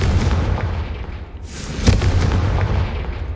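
A Confringo fire spell in Hogwarts Legacy bursts with a loud, rumbling boom and a sharp crack at its peak, set in a dense roar of fiery noise, with no one speaking.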